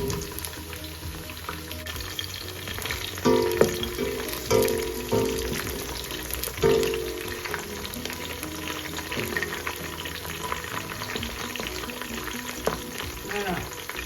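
Chicken for Tunisian couscous frying in a pan, a steady close sizzle with a few louder spits and stirring bumps, no talking.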